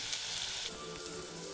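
Onion and green chili frying in a little oil produce a faint, even sizzle that softens slightly partway through, with no other sounds.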